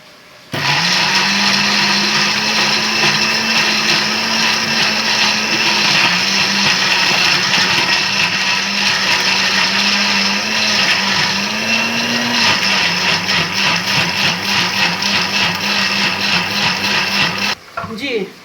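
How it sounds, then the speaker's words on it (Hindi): A blender grinds masala with two spoons of yogurt into a fine paste, its motor starting abruptly and whirring loud and steady with slight pitch shifts as the load changes, then cutting off near the end. "अब हमने इसमें 2 चम्मच दही डाल के इसको बिल्कुल फाइन पेस्ट में ले आना है।"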